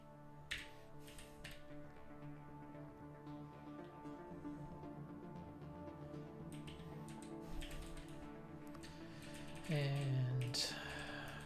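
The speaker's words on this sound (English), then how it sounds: "Really good at typing square brackets when I'm in curly brackets." Rapid, quiet keystrokes clatter on a computer keyboard while someone writes code, a steady stream of light taps over a faint, humming background.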